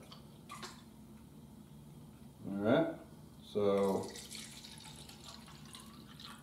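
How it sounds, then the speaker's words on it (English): Water runs from a tap into a measuring cup in two short bursts, each a bright splashing pour lasting about a second, close up over a quiet room with a voice briefly present. "I'm just gonna fill this up with 200 milliliters of water."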